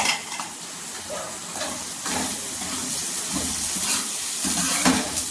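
Half a spoon of cumin seeds dropped into hot oil for a potato pakora curry, roasting with a steady close sizzle, soft scraping and occasional metal clinks of a spoon against the pan, with no voices.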